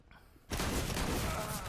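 Sudden burst of rapid gunfire in the Counter-Strike video game, loud and sustained after a brief quiet start, with dense overlapping shots and no talk.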